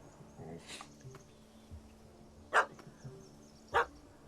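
A puppy in The Witcher 3 Wild Hunt gives two sharp barks a second apart after a tangle of softer yips and whimpers, close and clear over quiet ambience.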